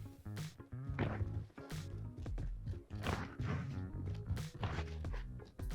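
Muffled footsteps overhead in Call of Duty on Rebirth Island thud in an uneven series of soft, dull knocks, each followed by brief rattling, heard alone at a distance.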